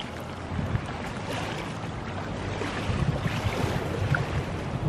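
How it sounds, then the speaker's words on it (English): Wind buffets a microphone beside a lake, a steady low rumbling roar with gusty swells and faint splashing water beneath, fairly quiet overall with no voices. "Our friend Mr. Wind has taken over again."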